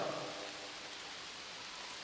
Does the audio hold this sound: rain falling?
yes